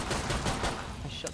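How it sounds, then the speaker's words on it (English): Gunfire in the video game Killing Floor 2 crackles in a dense, rapid burst of shots filling the whole short moment, loud and close. "I shot the guy in the back"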